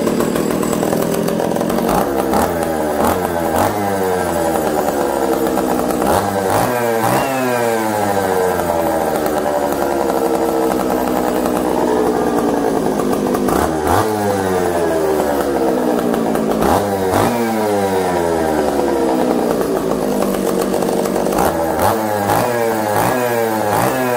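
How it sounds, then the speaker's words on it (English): An old Echo chainsaw, long unused barn find, fires up and runs loudly and close, its two-stroke engine revving up and down repeatedly with sharp rising and falling pitch sweeps and no talk. "Let's see if this thing starts. I bet you it will. I just, these old saws are usually just tough."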